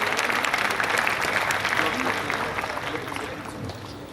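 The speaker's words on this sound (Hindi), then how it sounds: "तालियां बजाकर स्वागत करें।" Audience applause welcoming a guest at an outdoor Hindi poetry gathering, continuous dense clapping that gradually fades toward the end.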